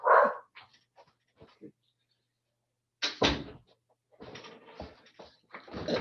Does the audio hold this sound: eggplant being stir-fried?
no